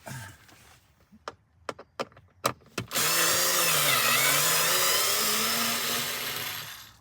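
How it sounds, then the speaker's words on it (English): A Parkside cordless power screwdriver removes screws from a camper van fitting: a few sharp clicks and knocks, then a loud continuous whirring motor run that holds steady for several seconds before easing slightly at the end. "Oh, right, I need a screwdriver, get these out. Right, let's see if the old trusty Parkside's got the grunt to do it."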